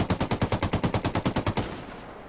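Rapid automatic rifle fire from a Spetsnaz kit gun in Ghost Recon Wildlands: a steady, evenly spaced burst of about fourteen loud shots lasting a second and a half, then a ringing tail fading into quiet.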